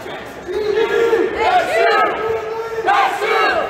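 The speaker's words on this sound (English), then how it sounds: "Crowd trying to get Grand Valley back into this one here." Crowd at a college wrestling match between Grand Valley State and Michigan State cheering and shouting, with rising yells and chants that swell and fade over a couple of seconds.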